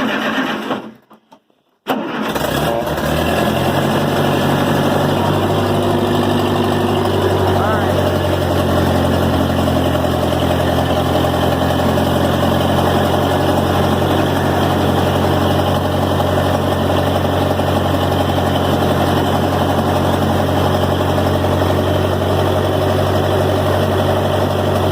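A Ferguson TO-20 tractor cranks briefly in cold weather, catches after a moment of silence, and settles into a loud, steady idle that runs on without a break.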